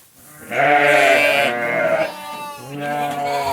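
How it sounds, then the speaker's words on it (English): Ewes on a farm bleat loudly and close, two long wavering calls with a short pause between them, no other noise competing. "We've got about 4 ewes."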